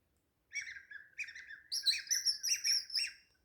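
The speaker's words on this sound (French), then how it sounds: "écouter les oiseaux chanter" Birds chirp and trill in quick, bright bursts, several overlapping calls close by against an otherwise quiet background.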